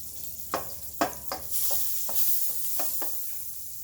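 About two tablespoons of butter sizzle steadily in a pan for pork chops, a close, soft hiss broken by a few sharp spatters and clicks near the start.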